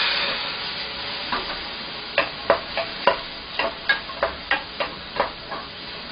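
Abalone sizzles in a hot pan with butter and onion for a Japanese butter-grilled dish, a steady frying hiss broken by a run of sharp, evenly spaced clicks from a utensil stirring against the pan.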